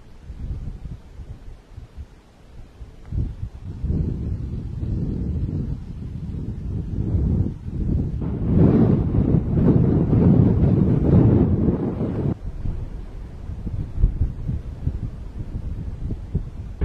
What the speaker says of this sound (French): Il y a énormément de vent comme vous pouvez l'entendre.